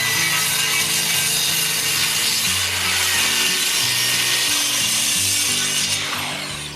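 A power saw cuts 7mm plywood strips for concrete formwork on a flagstone walkway project. The loud, steady whining cut runs up close, with the motor pitch shifting under load before it trails off at the end.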